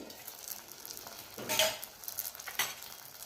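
Eggplant frying in a pan for Hyderabadi baingan masala, a quiet, steady sizzle with occasional scraping stirs and light clinks of a utensil against the pan.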